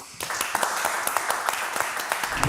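A live audience at a startup pitch event applauds as a founder comes on stage, brisk dense clapping with sharp individual claps standing out close by.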